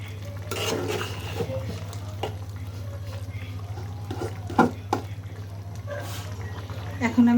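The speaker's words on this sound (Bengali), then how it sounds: "হলুদ দিয়ে এখন আমি নেড়ে দেব।" Vegetable khichuri just dosed with turmeric is stirred in a pot, giving soft scraping and clinking spoon strokes over a low steady hum, with a person talking now and then.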